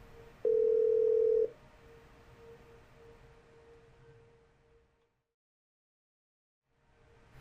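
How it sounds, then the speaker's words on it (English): A desk phone in an enterprise calling system lets out a short loud beep, then a steady dial tone that slowly fades and gives way to silence, with a faint sound returning at the end. "When roaming in Halifax, Chloe can dial Halifax extension 7751 from both the roaming CIPC and EM profile."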